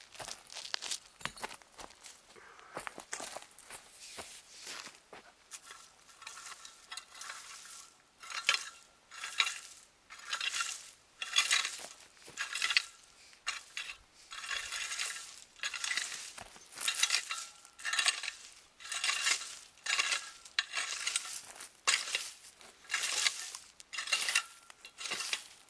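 Soil is scraped and raked over freshly planted garlic in a garden, a run of soft, rhythmic gritty scratches and rustles repeating steadily at close range.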